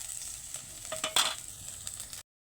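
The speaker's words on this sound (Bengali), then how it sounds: "একটু হালকা আঁচে ভেজে নেবো" Prawns frying gently over low heat in a pan with onion paste, dried red chillies and tomato paste, giving a soft continuous sizzle with a few sharper crackles and stirring scrapes near the middle, then cutting off abruptly.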